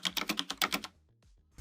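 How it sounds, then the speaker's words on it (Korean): Fast close clacking of keys on a Monogram mechanical keyboard with Gateron low-profile 2.0 brown switches, a quick run of keystrokes followed by a quieter pause and a final soft thump. "모노그램 키보드."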